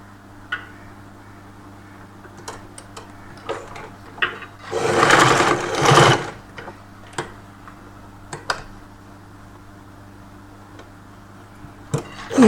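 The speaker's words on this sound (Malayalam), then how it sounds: "ഇതിങ്ങനെ മടക്കിയിട്ട് ഹുക്ക് ഹോൾ വെച്ച് നമുക്ക് തയ്ക്കാം." Electric sewing machine stitching the hook-hole edge of a folded saree blouse, one sustained burst of about a second and a half in the middle, set between sparse quiet taps and clicks from handling the fabric.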